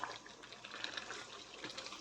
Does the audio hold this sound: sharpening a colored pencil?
no